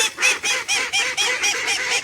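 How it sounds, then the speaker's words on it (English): Loud, close quacking from a small group of bantam ducks, a rapid run of about eight raspy calls in steady rhythm, with no talking. "These are my bantam ducks"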